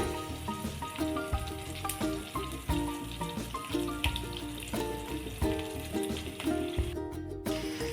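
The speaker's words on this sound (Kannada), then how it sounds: "ಕರಿಬೇವು ಸ್ವಲ್ಪ ಇಂಗ್ ಹಾಕ್ತಾ ಇದ್ದೀನಿ" Curry leaves, asafoetida, cumin and garlic crackle in hot oil for a vegetable sambar, a steady close sizzle running beneath background music.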